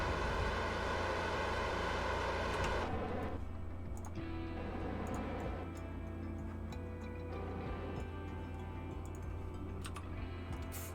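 A rocket engine in Kerbal Space Program, a dense roaring rumble that cuts down after about three seconds into a lower steady drone with scattered faint ticks.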